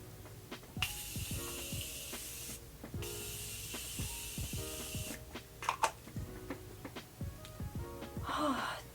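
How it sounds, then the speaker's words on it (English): Morphe Continuous Setting Spray misted from its bottle in a few short, airy hissing bursts, heard up close over soft background music with occasional rustling. "So yeah, I'm just gonna spray this."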